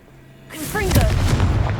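A Confringo spell blast in the Hogwarts video game: a quiet lead-in, then a sudden booming burst with rising whistling tones that rumbles on loudly to the end.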